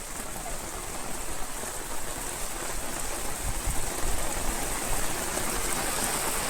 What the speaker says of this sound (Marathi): इतका पाऊस पडतोय की काहीही दिसत नाही